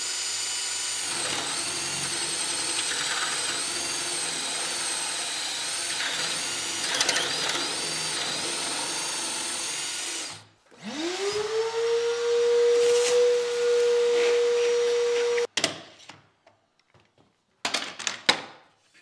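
Drill boring a cabinet hinge hole with a jig, a loud steady whine of cutting that stops, then the motor spins up again alone to a sustained tone before cutting off, followed by short handling clicks.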